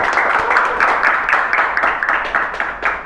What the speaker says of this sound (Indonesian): Silakan beri semangat buat kita, tepuk tangan dulu dong.